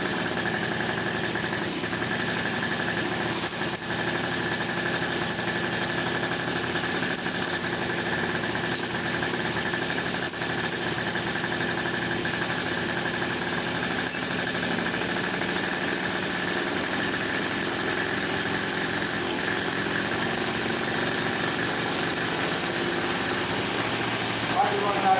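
A 1992 Yamaha Jog moped engine, running a little rich, idles steadily throughout while its carburetor is adjusted, giving a loud, continuous buzzing drone at close range.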